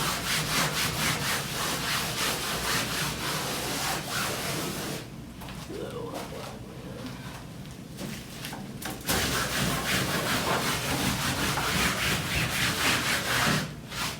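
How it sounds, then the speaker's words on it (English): Steady rough scraping of charcoal off a canvas before painting, a close continuous rasping rub that pauses briefly midway and then resumes. "First I'm gonna scrape off all this charcoal that I have on it, just so it won't blend in with the paint."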